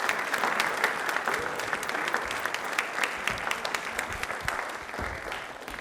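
A studio audience at a televised Rajasthani quiz programme claps in sustained, vigorous applause, a dense wash of hand claps that stays steady for several seconds before easing slightly at the end.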